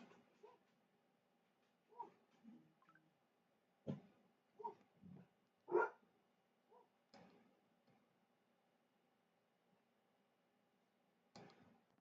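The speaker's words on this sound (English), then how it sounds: "sorry about my other dog barking now." Another dog barks in the background of a home, a handful of faint, scattered barks spread across the stretch with quiet gaps between them.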